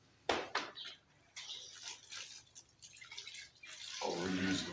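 Water splashing and dripping as laundry is washed by hand in a basin, soft sloshes and drips in quick bursts, then a longer stretch of swishing water, quiet and close.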